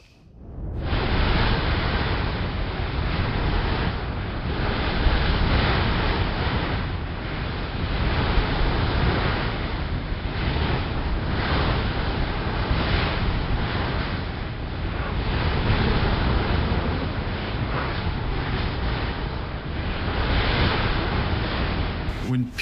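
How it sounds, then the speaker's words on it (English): Steady, loud coastal wind buffets the microphone, a continuous roaring rush that swells and eases slightly throughout with no pauses. "It's a little windy too."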